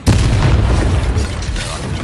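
A Confringo blasting spell detonates in the Hogwarts Legacy video game, a loud, sustained rumbling boom filling the whole stretch with heavy low-end blast noise.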